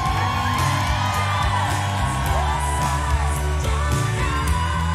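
Audience whoops, yells and cheers from a large crowd at a live concert by a singer, loud and continuous over steady music with a sung melody running underneath.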